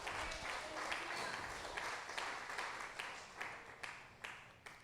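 A church congregation claps together during a service, a loud, dense, sustained round of applause with a few sharper individual claps standing out toward the end, voices faint beneath it.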